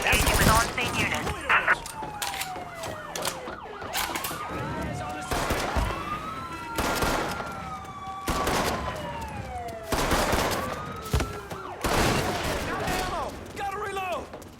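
A shootout in Mafia 3 has repeated gunfire bursts cracking out over a wailing police siren, with voices talking throughout.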